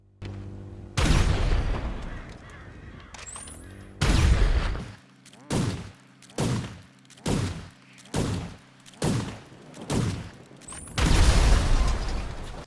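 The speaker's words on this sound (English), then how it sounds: "So the railgun took 9 shots to destroy the tank" Railgun shots strike a tank in GTA Online: a long heavy blast, then a string of sharp, booming impacts spaced about a second apart, and a final large explosion, all loud and close.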